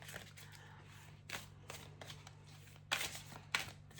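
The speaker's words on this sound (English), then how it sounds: "I'm just shuffling it to the side because these cards are always so big for me to shuffle." Oversized cards shuffled by hand: a few soft, brief riffling bursts rise over a faint, steady low hum, close but quiet.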